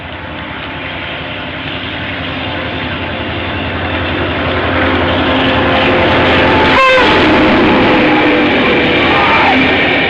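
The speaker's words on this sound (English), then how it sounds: "We now see the train just before Diamond Creek." Steamrail diesel locomotive pair hauling a members' train through the Diamond Valley near Diamond Creek, a broad rumble swelling steadily as it approaches, with a sharp mechanical clank midway and the roar staying close and loud afterward.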